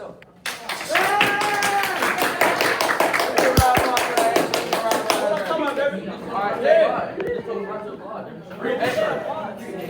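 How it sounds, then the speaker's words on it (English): An eighth-grade school talk-show audience claps in a quick, dense burst for about five seconds, then the applause fades into chatter and voices. "Applaud!"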